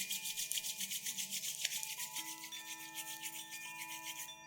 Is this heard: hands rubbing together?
yes